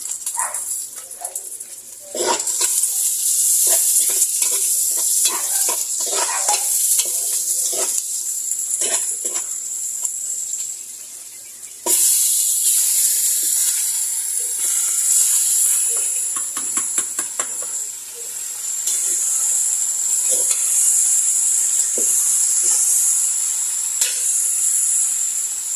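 Meat sizzles in a pan during fiesta cooking, a loud, bright, hissing fry with crackling spatters that drops out briefly twice before surging back.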